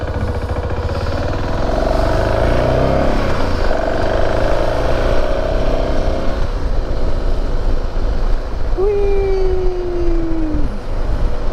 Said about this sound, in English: Oh, now we got the fan running. That's really gonna blow some heat.